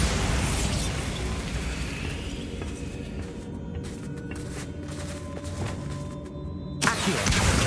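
Bombarda spell explosion in a wizard video game: a loud, broad blast with a long rumbling decay, fading over several seconds before another burst near the end, with no voices.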